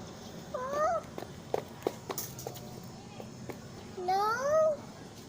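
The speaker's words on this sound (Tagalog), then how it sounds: "Nasabi nung cat? Meow." A cat gives two drawn-out, rising meows a few seconds apart, close by and fairly loud, with light clicks and footstep-like taps between them.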